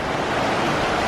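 A river flowing where a backcountry trail ends, swollen with spring runoff, a steady broadband rush close by with no voices.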